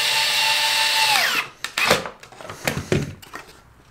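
Power drill driving screws into plywood to fix a router base, a high whirring spin that winds down, followed by several soft thunks and knocks of the wood being handled.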